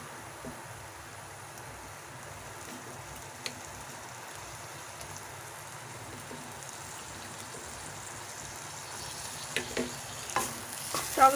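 Sour yogurt is stirred into a pan over a low flame, a faint soft sizzle and quiet scraping that grow into a few louder clinks of the spoon toward the end.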